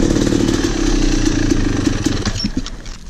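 A Yamaha YZ250 two-stroke dirt bike engine runs steadily at a motocross track, a loud, close, buzzing idle with a rapid rattling pulse that holds throughout.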